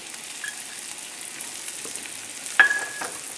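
Mushrooms and onions sauté over a relatively high flame in a frying pan for an omelette. A soft, steady sizzle runs throughout, broken near the end by a sharp clink of a utensil against the pan.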